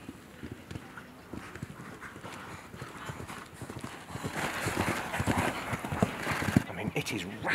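Horse hooves clip-clop in a quick, steady rhythm at an equestrian event, growing louder and nearer, while a person talks over them and a dog is faintly audible.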